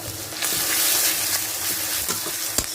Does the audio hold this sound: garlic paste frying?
yes